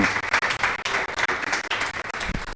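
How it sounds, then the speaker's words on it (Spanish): A church congregation claps together in steady, dense applause that fills the room evenly for a couple of seconds, without voices on top. "Denle un aplauso al Señor."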